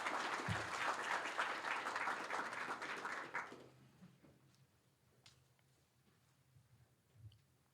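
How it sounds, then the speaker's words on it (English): Audience at a regional idea pitch event applauding as a speaker is welcomed onstage, dense clapping for about three and a half seconds that stops abruptly, leaving quiet room noise. "Please welcome Nick to the stage with a nice round of applause."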